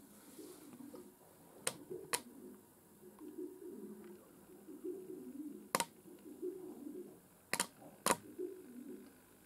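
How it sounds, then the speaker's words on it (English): A racing pigeon coos in soft, repeated low burbling phrases through most of the stretch, close by and fairly quiet, broken by several sharp snapping clicks; no one speaks. "Lovely strong pigeon."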